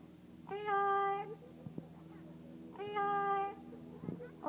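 Parrot singing the tune of Old McDonald, two drawn-out tonal vocal phrases with pauses between, close and fairly quiet.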